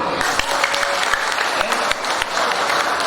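Steady crowd applause at a village head election, many hands clapping continuously for a few seconds, dense and fairly close.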